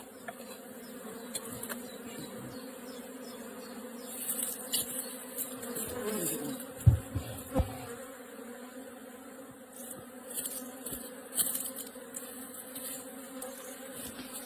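Honey bees buzz steadily around an open hive as the queen excluder comes off, a continuous close swarm drone that swells and fades, with occasional handling knocks.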